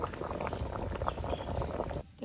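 Water olives (jolpai) boil in a pot, a dense, continuous bubbling and gurgling heard up close that stops abruptly near the end.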